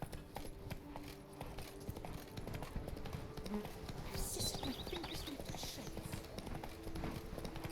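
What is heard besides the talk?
horse riding hooves, from the video game The Witcher 3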